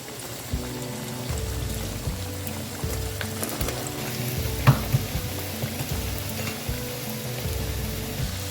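Aloo samosas fry in oil in a preheated pan over a low flame, giving a steady, close sizzle that holds throughout, with a couple of brief clinks partway through.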